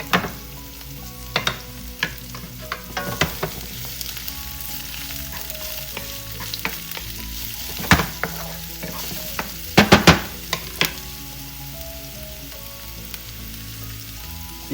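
Onions and ginger sautéing in a pan over medium-high heat for Filipino escabeche: a continuous close sizzle broken by frequent spatula scrapes and clanks, with a cluster of louder knocks near the end, no talking.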